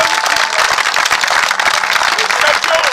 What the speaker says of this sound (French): Je vous demande d'applaudir fort pour notre champion.